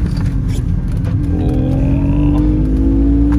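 Inside a Citroen C1 track car with the back seats stripped out, a loud booming low engine drone fills the bare cabin, rising in pitch as the car accelerates in second gear, no talk.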